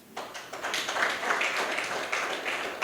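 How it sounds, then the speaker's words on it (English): An audience at a maternal nutrition event bursts into applause, a dense, steady wash of many hands clapping throughout, fairly close and without talk. "The government of Bauchi State deserves a round of applause."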